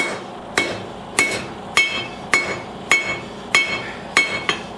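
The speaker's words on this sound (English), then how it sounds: "I am using a hammer that I rounded the face on to make myself a rounder" Steady hammer blows on hot railroad-spike steel being forged into a knife, about every half second, each a sharp ringing clang with a short decay, close and loud.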